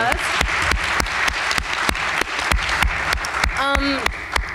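A film festival audience at a Q&A screening applauds the director, a dense, loud, continuous applause with a brief voice rising over it near the end.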